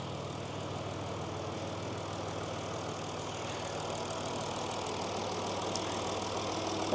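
A small Jacobsen tractor engine idles steadily with a low, even chugging throb, continuous and close, no voices.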